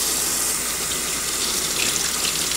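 Water runs steadily from a tap while hookah parts are rinsed with soap, a continuous close hiss and splash with no talk.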